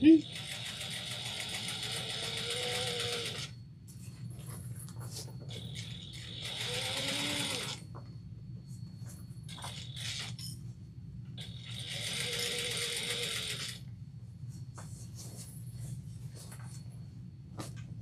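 A sewing machine stitches a travel bag in several short bursts of rapid mechanical whirring, separated by quiet pauses, close by and moderately loud.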